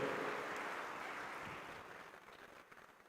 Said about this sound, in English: Please welcome, with a round of applause, Honorable Vice Chancellor of MIT World Peace University